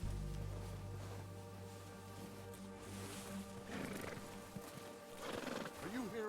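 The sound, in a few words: horse neighing and hooves, video game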